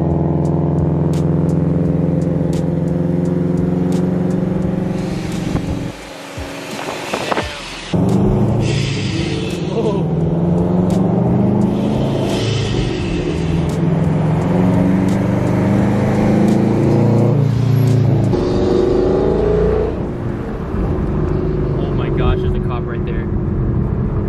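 Supercharged Toyota GT86 with a UEL Subaru rumble exhaust, loud engine revving and droning with a brief cut-out, under a voice talking over much of it.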